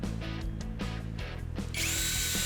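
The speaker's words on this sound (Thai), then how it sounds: "ระบบเจาะ สำหรับงานเจาะวัสดุทั่วไป" A MASARU SCDH-120 cordless impact drill with an 18V Li-ion battery and 60 Nm torque runs in drill mode on general material, its loud motor whining in short, uneven pulses before surging into a steadier, higher spin.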